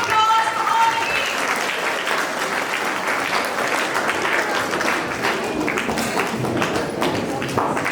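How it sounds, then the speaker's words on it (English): A room full of people applauding the teams at a space science quiz competition, dense steady clapping at a lively pace throughout, with a few voices and cheers mixed in. "Give a huge round of applause for all the teams."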